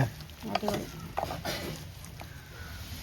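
Curry leaves and garlic tempered in hot oil, poured into a black Kerala curry, with short crackling sizzles and stirring sounds close by at a modest level.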